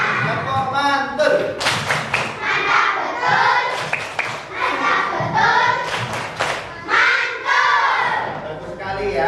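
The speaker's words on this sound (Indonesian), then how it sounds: "Tepuk mantul" A class of schoolchildren performs the 'tepuk mantul' clapping chant, loud rhythmic hand claps and thumps mixed with shouted group voices, close and energetic throughout.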